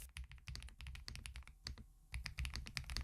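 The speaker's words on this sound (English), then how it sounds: "Here's a quick sound test of the EpoMaker TH85." Rapid, continuous typing on an EpoMaker TH85 mechanical keyboard, dense clacky keystrokes close up with a short pause midway, no voices.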